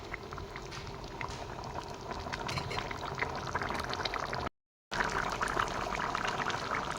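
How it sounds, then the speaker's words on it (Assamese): Egg curry with sesame seeds boiling in a pot, a soft continuous bubbling and burbling at low level, broken once by a brief total silence, with no speech. "এতিয়া মই উতলিব দিম আৰু 5 মিনিটমান সময় লাগিব"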